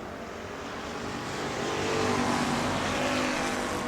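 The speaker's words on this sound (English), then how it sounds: "Chuck Rush in the K9, getting that thing wound back up as he goes by Lucas Johnson" Race cars roar around the track at New Smyrna during a family fun night race, engines droning loudly and steadily as the pack passes close.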